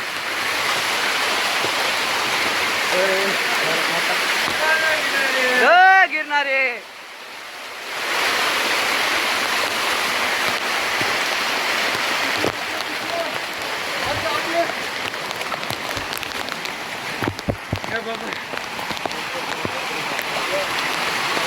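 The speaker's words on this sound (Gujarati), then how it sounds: "હવે આ એટલો ફૂલ વરસાદની મોજ છે તારે એકલા વોટરફોલ જ થઈ ગયા ડુંગરા" Monsoon rain and waterfalls stream down the Girnar hills, a steady broad rushing wash that fills the scene, with a voice briefly speaking over it.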